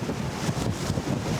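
Strengthening wind at sea buffets around a catamaran near reefs in French Polynesia, producing a rough, gusting roar that rises and falls with strong buffeting on the microphone, loud and close.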